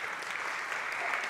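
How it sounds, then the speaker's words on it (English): Audience members at a European Maritime Day event clap warmly as people make their way to the stage, a brief, even burst of crowd applause. "you may please give them warm applause as they waft their way to the front of the stage"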